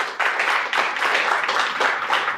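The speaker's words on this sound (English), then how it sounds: "Everybody give Sarah a round of applause for giving you some books." An audience at a gala bursts into applause: steady, dense clapping from many hands swells and pulses for a couple of seconds, close and fairly loud with no talking over it.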